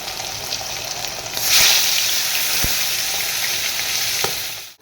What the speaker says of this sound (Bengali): এই যে মাছ ভাজছি